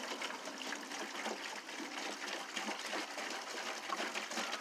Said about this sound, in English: I'm going to pour the water in first just because it's fun and easy